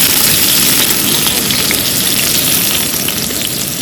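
Onions frying in oil toward golden brown for mushroom biryani, a loud, dense crackling sizzle close by that runs continuously, easing slightly near the end.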